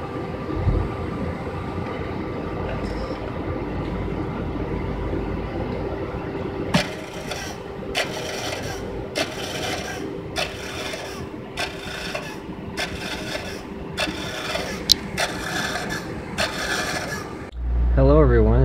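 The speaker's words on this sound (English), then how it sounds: "when it started to record to the tape, it made some really interesting noises" A DDS-3 DAT tape drive records to tape: a steady mechanical hum with a faint tone, then a run of about ten regular rasping, grinding bursts before a sudden low thump at the end.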